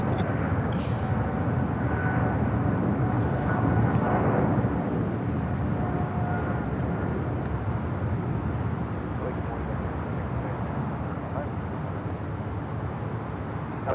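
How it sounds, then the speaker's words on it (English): A China Southern Cargo Boeing 777 departs Los Angeles International Airport with a broad, rumbling jet roar that holds steady and slowly eases. People talk over the engine noise. "This departure is China Southern Cargo Flight 442 departing to Shanghai on a 777"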